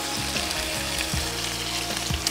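Veal shank for ossobuco browns in a hot pan, giving a dense, continuous close sizzle with a few soft clunks as the meat shifts, and no voices.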